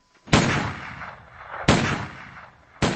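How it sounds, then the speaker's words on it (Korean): Gunshots from a farm during a dramatized Animal Farm audiobook, fired solemnly like a salute: three loud, sharp blasts spaced over a second apart, each trailing into a long rumbling decay. "농장 쪽에서 축포처럼 엄숙하게 터지는 총소리가 들려왔다"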